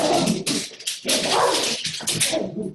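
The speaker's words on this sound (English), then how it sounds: "another bird attracted my dog" A dog barks in a series of sharp, loud bursts close by, with short gaps between them, agitated by a bird on a farm.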